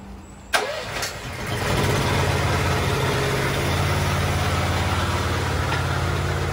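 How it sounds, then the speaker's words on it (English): An air compressor kicks on with a sharp clack, then ramps into a loud, steady mechanical drone while it powers an air diaphragm pump. "we'll fire up the air compressor and we'll show you what this thing has"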